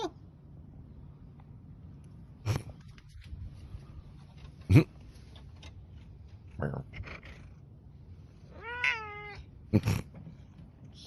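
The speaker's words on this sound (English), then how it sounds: "I love how chatty Siamese cats are" A Siamese cat lets out a few short, distinct meows spaced several seconds apart, including one rising, chatty yowl, over a quiet room background with faint sounds between calls.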